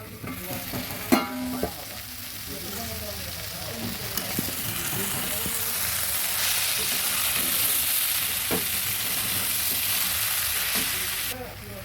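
Jackfruit curry masala being stirred in a pan, the spoon scraping and knocking intermittently over a steady sizzle that swells through the middle and cuts off near the end; no talk.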